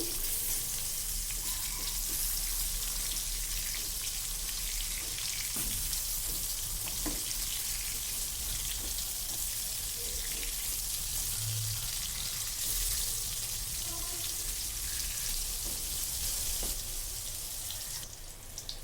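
Eggplant fries in oil in a pan, a steady hiss of sizzling that runs throughout, with a few soft knocks as the pieces are turned, no speech.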